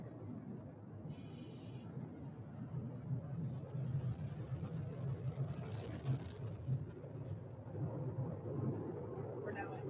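Falcon 9 first stage with nine Merlin 1D engines on a crewed Dragon launch, heard as a steady, loud broadband roar with crackling rumble that holds throughout, beneath faint broadcast chatter.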